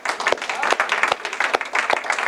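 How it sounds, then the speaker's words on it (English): A conference audience in Toronto claps loudly and close, a brisk, uneven patter of many hands with sharper individual claps popping out, lasting only a couple of seconds. "give yourself a round of applause."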